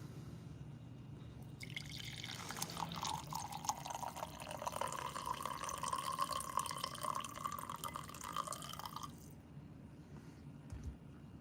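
Brewed coffee poured steadily from a Burmese Bear personal grinder setup into a cup, a continuous liquid stream lasting several seconds at close range, with a sump pump humming low in the background.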